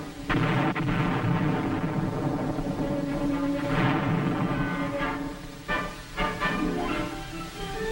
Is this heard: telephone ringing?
no